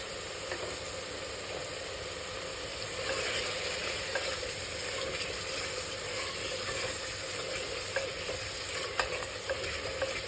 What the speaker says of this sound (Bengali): আলুটাকে আগে ফার্স্টে এইভাবে কষিয়ে নেব।